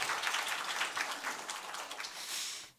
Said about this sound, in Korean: 박수로 한 번 더.